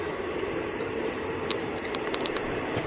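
Alipurduar Intercity Express (15767) running through forest at dusk, heard from inside a carriage as a steady, even rumble with faint high squeals and a few light clicks near the end.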